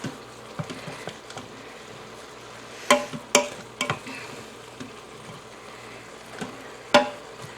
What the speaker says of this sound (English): I'm not going to make you sit and watch me stir onions for the next 10 minutes.